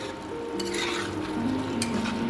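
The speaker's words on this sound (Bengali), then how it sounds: "এবার 5 ফোড়নটা দিয়ে আমি একটু ভালো করে নেড়ে নেবো" A spoon stirs prawns and katwa data stems in a pan after five-spice is added, with soft scraping and sizzling plus a couple of sharp clinks against the pot, close and continuous.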